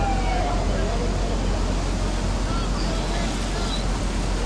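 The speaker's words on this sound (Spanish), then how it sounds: "Ahí se va todo para allá el río por la piscina, se está desbordando todo" An overflowing river in Lajas, Chota, floods past a swimming pool, giving a loud, constant roar of rushing water with no breaks, close by.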